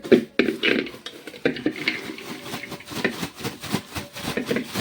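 Metal pots and utensils clatter and scrape in a home kitchen as food is put into a pressure cooker, with irregular knocks and clinks close by and no talk.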